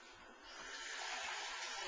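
Tap water gushing into a mixing pan, a soft hiss that swells after a quiet start and then holds steady, faint and close.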